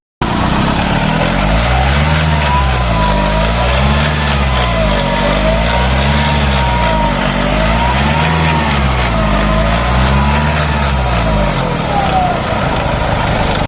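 Nissan Navara YD25 diesel engine with a stretched, abnormally noisy timing chain, idling loud and close with a steady rhythmic pulsing drone and a wavering whine throughout.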